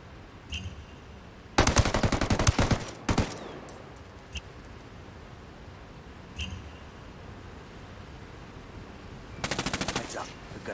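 Bursts of rapid video-game machine-gun fire come in several loud volleys with quieter single shots and clicks between, close and harsh against a low background.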